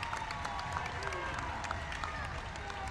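A home crowd at a girls' JV basketball playoff game applauds and cheers after a made corner shot, a faint, distant patter of clapping with scattered crowd noise under gym ambience.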